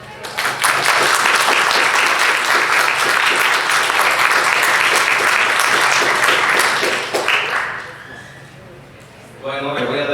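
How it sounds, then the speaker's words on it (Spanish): An audience gives dense, loud applause to welcome a lecturer for about seven seconds before it fades out, and a voice speaks near the end. "un fuerte aplauso"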